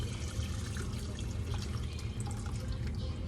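Liquid pours steadily into an Instant Pot of birria for a few seconds, a soft continuous splashing and trickling, fairly quiet with no talking.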